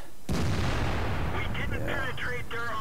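A tank gun fires in the World of Tanks video game, one sharp loud blast followed by a rumbling decay, with a voice talking over the tail.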